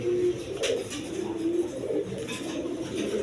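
A racer pigeon coos in low, throaty phrases close by, with steady flock murmur and faint chatter of other birds filling the background throughout.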